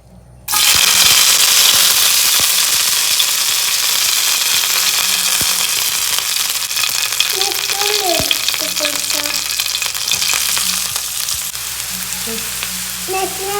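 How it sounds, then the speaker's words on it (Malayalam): Chopped garlic fries in hot oil in a pan on a gas stove, a loud, dense sizzle that bursts in abruptly and crackles steadily throughout, with occasional stirring clinks. "അതിലേക്ക് എണ്ണ ഒഴിച്ചിട്ട് കൊടുക്കാം. നമുക്ക് ഇതിലേക്ക് കച്ചപ്പട വെളുത്തുള്ളി ഇടാം."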